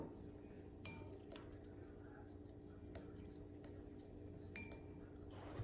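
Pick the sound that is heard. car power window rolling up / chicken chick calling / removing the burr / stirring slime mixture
stirring slime mixture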